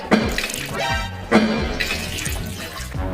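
Water splashes and gurgles out of a cup in a few loud, uneven bursts, one near the start and another about a second later, with dripping and sloshing between them.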